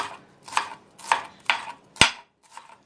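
A knife chops dill, stems included, on a cutting board in five or six spaced strokes, one sharper and louder than the rest, with no voices.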